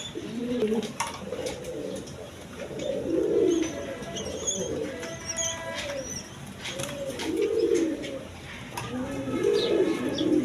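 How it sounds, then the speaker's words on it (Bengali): Pigeons, including King pigeons, coo in repeated soft, throaty bursts close by at a pigeon sale, with faint chirps and background voices in between. "এখানে এক পিয়ার কিং কবুতর আছে"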